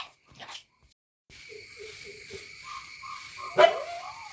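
A pet dog barks indoors at home, a short run of quick moderate barks followed by a louder yip near the end, heard at mid distance.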